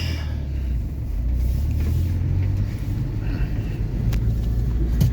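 A car pulling away and driving along a road, with a steady low engine rumble and road noise from inside the vehicle, close and continuous throughout.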